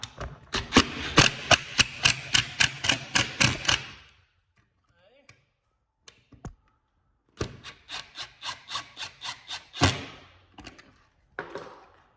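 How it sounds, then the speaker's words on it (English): Screws are driven into round electrical boxes on a garage ceiling with a Phillips screwdriver, giving a rapid series of close, dry ratcheting squeaks and scrapes in two bursts separated by a quiet pause. "get your Phillips. Kind of tighten each one down."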